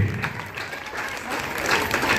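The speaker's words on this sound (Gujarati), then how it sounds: "ખૂબ ખૂબ તાળીઓથી વધાવો એને." Children clap together at a Republic Day celebration in Vadasar, a dense, steady applause that carries right through from start to finish, with a faint voice mixed in.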